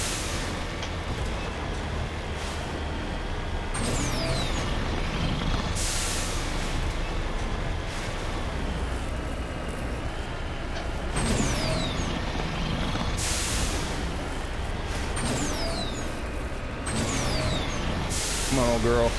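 Vehicle driving through Mass Effect's Noveria, a steady continuous engine rumble with hissing bursts, loud and constant throughout, with a voice talking over it at times.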